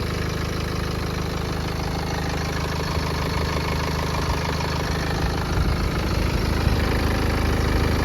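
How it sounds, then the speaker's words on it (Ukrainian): A 2014 BMW 520d xDrive diesel engine idles steadily up close, a continuous even rumble with faint knocking, no voices. "Ось, друзі, двигун просто муркоче."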